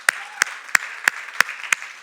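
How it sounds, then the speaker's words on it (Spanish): Rhythmic unison clapping from a church congregation during a Good Friday service, sharp claps landing at a steady beat about three times per second over a soft crowd bed, with no talking. "Dale un aplauso al Señor."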